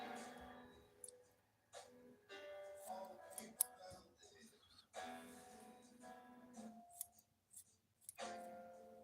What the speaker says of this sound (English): Trim this down a little bit though.